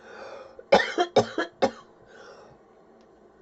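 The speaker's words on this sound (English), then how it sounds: "I've been coughing my head off." A person coughs hard and close by: a tight burst of four harsh coughs, a pause with faint background sound, then one more sharp cough at the end, with no talking.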